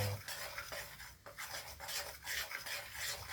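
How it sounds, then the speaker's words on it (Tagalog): A spoon stirs a batter-like mixture in a bowl for pankick until it blends, giving steady scraping and rubbing strokes close by with a few light clinks, with no talk. "Haluin lang natin hanggang sa mag-mix na siyang dalawa"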